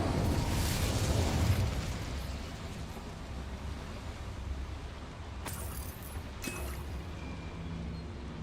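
Incendio fire spell cast in Hogwarts Legacy, a loud whooshing burst of flame that opens the moment and rolls into a fading roar, followed by a couple of faint clinking effects.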